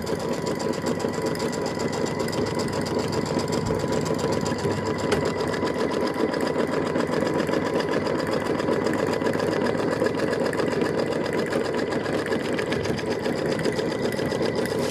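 A sewing machine runs steadily, stitching a basting line around a quilt bird house block, with a continuous close whirring and rapid needle rhythm and no pauses, with no talking.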